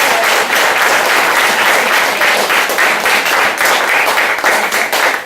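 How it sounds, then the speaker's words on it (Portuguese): Loud, sustained applause from a church congregation at a Congregational church service in Palmas, dense clapping filling the whole stretch with no talk over it. "Dá um aplauso para Jesus para você acordar aí"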